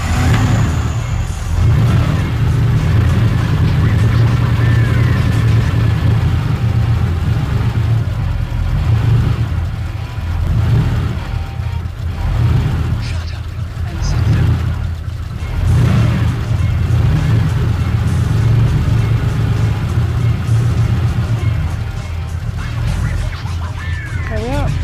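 A turbocharged 1UZ V8 swapped into a Mazda RX8 and running very rich on oversized injectors revs loudly in uneven surges with a lumpy, rough note, and voices talk faintly under it.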